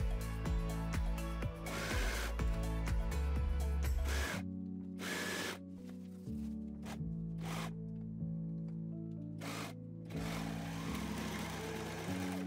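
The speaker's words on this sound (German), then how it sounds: "Und dann nähen wir auch diese Naht mit der Overlock-Maschine." An overlock sewing machine runs a seam on an oversized bomber jacket in quick whirring bursts separated by short pauses, close and fairly quiet.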